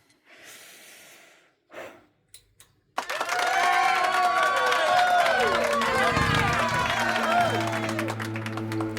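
A crowd of people clapping and cheering loudly with whoops and shouts, bursting in suddenly after a few seconds of quiet breaths and small noises, then holding at full volume to the end.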